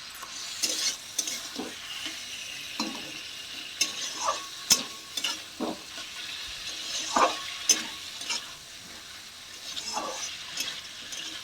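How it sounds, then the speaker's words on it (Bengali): Meat sizzles with onions in a hot pan, a steady frying hiss broken by repeated scraping stirs of a spoon at irregular intervals, close and clear with no voices. "মাংসের সাথে একটু ভেজে নেব, মাংস পেঁয়াজের সাথে।"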